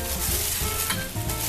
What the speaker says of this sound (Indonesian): kemudian tambahkan sedikit air